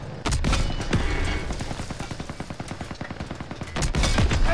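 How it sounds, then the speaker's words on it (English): Sustained small arms gunfire in the World War II shooter game Call of Duty WWII, a dense rapid rattle of rifle and machine gun shots with a few louder cracks, loud and continuous with no voices. "Small arms fire!"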